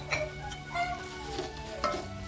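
Tomatoes sauté in a pan for banana flower biryani, a soft continuous sizzle broken by a few short stirring scrapes of a spoon against the pan, close and fairly quiet.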